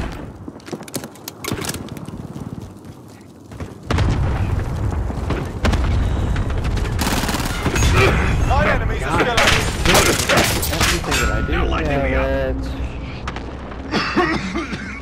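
Rapid bursts of gunfire and heavy explosive booms in a Call of Duty: Modern Warfare match, loud and dense from about four seconds on, with players talking over the shooting.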